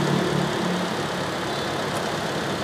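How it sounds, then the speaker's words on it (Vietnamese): A 2006 Toyota Innova petrol engine idles smoothly, a steady low hum holding at an even level without any talking. "Cục máy nổ khá là êm."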